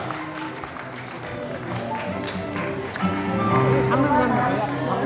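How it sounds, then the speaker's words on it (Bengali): Scattered clapping from a crowd at an art exhibition opening ceremony in Bangladesh builds under a loud voice speaking, with background chatter throughout. "সবার কাছ থেকে একটি করতালি ওদের জন্য, জোর করতালি চাই"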